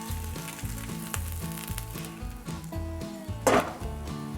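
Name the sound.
crab meat corn fritters frying in a pan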